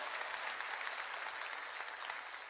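A church congregation applauding during a sermon, a dense, steady wash of many hands clapping at once that tapers off slightly toward the end.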